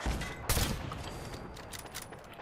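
Rapid gunfire aimed at a turret in the video game Fallout 4 crackles in a short burst of overlapping shots, with one sharper report early on and a steady fusillade at moderate volume.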